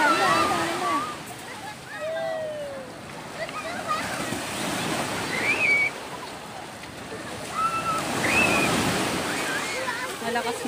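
Strong sea waves crash and wash onto a beach in a continuous rushing surge, loud and near, while people talk and call out over the water noise.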